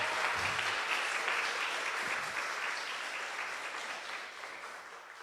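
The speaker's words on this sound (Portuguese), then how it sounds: "Quem glorifica o Senhor, dê uma salva de palmas a Ele" Congregation at a church service applauding together, a dense, steady wash of clapping hands that carries on throughout and eases slightly toward the end.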